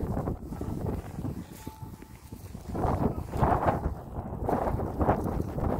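Gusty wind buffets an outdoor microphone, a steady low rumble that swells louder in the second half with broadband gusts, no voices present.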